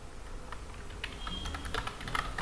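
Python code typed on a computer keyboard: a steady run of rapid, close key clicks with a few louder strikes, continuous for a couple of seconds with no voice.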